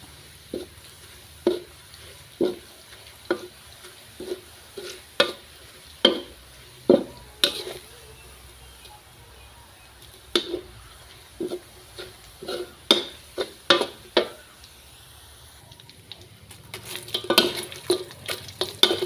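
Garlic being fried until golden in a pan for a fried red fish dish, with a soft sizzle under repeated scraping and tapping strokes of a utensil against the pan, irregular and close.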